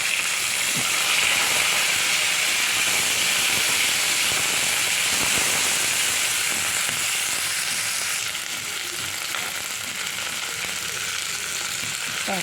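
Broad beans and eggplant dropped into hot oil with dried red chillies and black cumin seeds hiss in a loud, close, continuous sizzle that eases slightly partway through as the vegetables settle.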